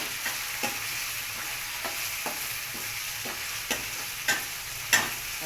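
Chili, ginger and garlic pieces frying with curry leaves in a pan, a constant close sizzle with spaced stirring taps and scrapes of a utensil growing slightly louder toward the end, no talk.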